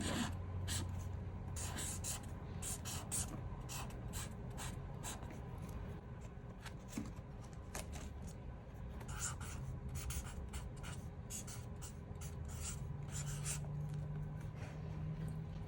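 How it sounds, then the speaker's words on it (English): A pen writes block letters on scrapbook paper in a bullet journal, giving close, quiet, continuous scratching with short rapid strokes and small ticks throughout. "I'm gonna do block letters this time."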